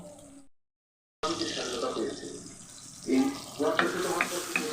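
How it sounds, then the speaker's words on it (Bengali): Sliced onions and green chillies frying in a pan give an ongoing hiss and sizzle after a brief silence, with a few clinks of stirring. A person talks over the cooking. "এখানে আমি পেঁয়াজের গন্ধ চলে যায় মতো আগে ভেজে নিচ্ছি"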